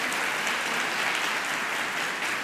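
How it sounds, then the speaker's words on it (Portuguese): An audience claps continuously for a short burst, with dense, even applause heard at moderate distance and no voices over it. "Parabéns, uma salva de palmas"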